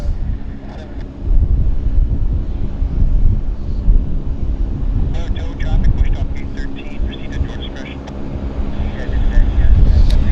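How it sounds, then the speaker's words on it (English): A JAL airliner from Narita on approach to land at Vancouver YVR airport, a low, distant jet rumble mixed with wind buffeting on the microphone, with people talking over much of it. "We've got JAL on approach, landing from Narita."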